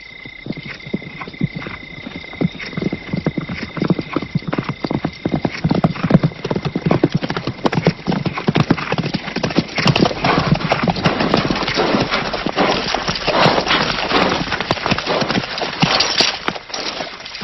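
Many horses of an approaching army clip-clop in a dense, continuous mass of hoofbeats, loud and close, with occasional neighs rising above the trampling.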